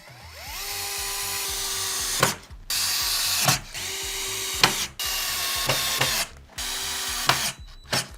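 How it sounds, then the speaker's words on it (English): A power drill drives small Phillips head screws into hinges on a handmade wooden jewelry box, the motor whirring in steady bursts with brief pauses and ratcheting clicks between screws, close up. "Now we're going to screw in the little Phillips head screws."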